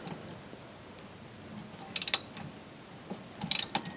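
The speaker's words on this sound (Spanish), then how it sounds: "Hay veces que la parte de abajo da vuelta y van a tener que utilizar esta llave." Wrench ratcheting on a brake bolt of a Volkswagen Mk4 during a rear brake pad change, with a few quick, close clicking bursts against a quiet background.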